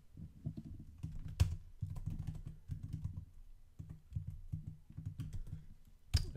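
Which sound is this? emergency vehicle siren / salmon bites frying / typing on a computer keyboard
typing on a computer keyboard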